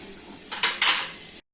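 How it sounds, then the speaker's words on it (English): A utensil scrapes and clanks against a pan while beef is stir-fried with onion, carrot and corn, giving two loud metallic strokes close up before the sound cuts off. "If the beef alright, then you can put onion and carrot and corn."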